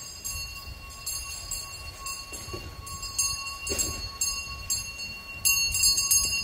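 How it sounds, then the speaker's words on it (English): Volunteer-summoning bell ringing repeatedly at moderate distance, its bright tone recurring in bursts over steady outdoor background noise, with no talking. "This is the bell signaling the volunteers to come in because we're going to have a little meeting."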